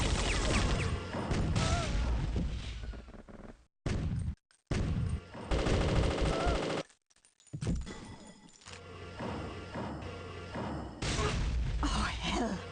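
Bursts of gunfire and crashing impacts from the video game Vigilance, loud and dense over game music and noise, broken by a few brief dropouts, with voices talking throughout.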